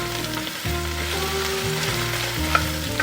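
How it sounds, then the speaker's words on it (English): Shrimp shells sizzling in butter in a pot as they are stirred, a steady close crackle with a brief tap of the spoon near the end. "we're just going to stir this for a couple of minutes while these get pink"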